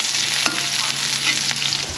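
Egg sizzling as it is sautéed in a pan, a continuous close hiss of frying broken by occasional stirring scrapes, with no voices.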